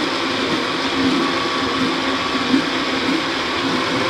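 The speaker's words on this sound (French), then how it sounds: "je vais commencer à mixer" A kitchen blender purees red pepper coulis, a steady, loud motor whir and churn that holds evenly throughout without pause.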